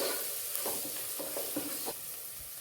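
Onions sautéed with fennel powder and garam masala get stirred in a pan, with soft scraping strokes recurring every half second or so over a steady low sizzle. Nobody speaks.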